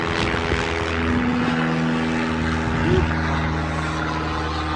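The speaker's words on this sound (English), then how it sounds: "There's another bloody aeroplane." A propeller plane drones steadily overhead, its low engine hum continuous and fairly loud throughout, with faint background noise.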